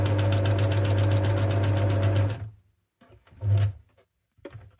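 A sewing machine stitching together fabric snippets into a snippet roll, running loud and steady in a fast rhythmic chatter for about two seconds, then stopping, followed by a couple of short bursts of stitching.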